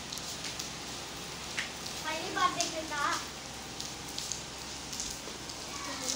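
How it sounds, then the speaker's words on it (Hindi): Heavy rain from a thunderstorm hisses steadily at low level, with a voice speaking briefly over the downpour. "इतनी तेज़ बारिश आ चुकी है, सही शदीद वाली आंधी"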